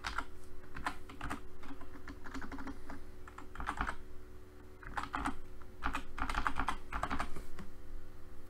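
Computer keyboard being typed on for a password and card number: quiet, close clicking keystrokes in short irregular bursts with brief pauses, over a faint steady electrical hum.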